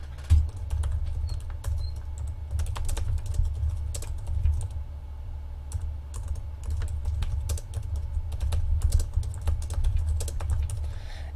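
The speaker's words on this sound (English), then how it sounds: "Let me go ahead and type in Lefty Pole shooting the shit again." Fingers type on a computer keyboard in bursts of quick, close clicks, over a low steady hum, with no speech.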